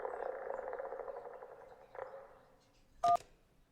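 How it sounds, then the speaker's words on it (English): A motorboat propeller fails in the video game Kentucky Route Zero: a buzzing, fluttering drone sputters and fades over a few seconds, followed by a single sharp, bright click. "That was a motorboat's propeller failing."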